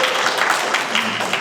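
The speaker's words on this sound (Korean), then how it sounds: "박수 큰 박수 부탁드리겠습니다" Audience applause breaks out at an academic conference session, a brief, dense burst of many hands clapping at once, loud and close.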